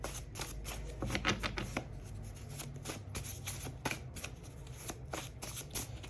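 Tarot cards being shuffled, a series of quick crisp riffling and slapping bursts repeating at an irregular pace, close and fairly quiet, with no talking.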